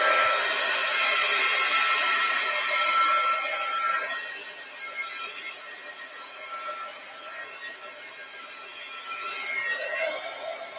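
A heat gun blows steadily up close while drying craft paint in an art journal, a continuous whirring hiss that dips and wavers partway through as it moves, with no voices.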